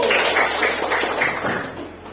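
Students in a classroom clap their hands together in a short rhythmic sequence of quick, closely spaced claps, moderately loud, mixed with a murmur of voices.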